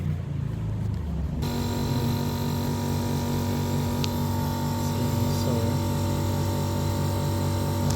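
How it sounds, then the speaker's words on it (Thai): A Saijo Denki 13600 BTU R22 air conditioner condenser unit hums steadily under repair, its fan and compressor giving a close, continuous drone with layered tonal whine. Its cooling fault is weak cooling. A faint click is heard partway through. "เสียงคอนทำงาน เย็น นี่นะครับ"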